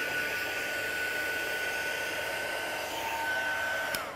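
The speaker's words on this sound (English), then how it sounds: "So we'll just melt this again with our heat gun." A heat gun blows a steady, close, even rushing hiss while melting embossing powder on a stamped poinsettia piece, running without a break and with no talk over it.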